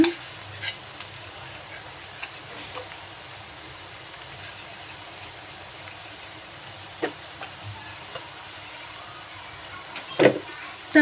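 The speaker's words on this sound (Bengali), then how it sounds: "ইলিশ মাছের আচার রসুন দিয়ে দিচ্ছি" Garlic sizzling in hot oil for a hilsa fish pickle: a quiet, steady hiss with a few soft clicks and stirring knocks scattered through, with no voices.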